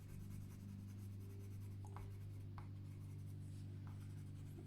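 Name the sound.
colored pencil burnishing hot pink on paper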